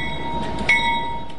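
A bell rings on an Amtrak train stranded in snow in Oregon, its steady sustained tones sounding over a low rumble of the train.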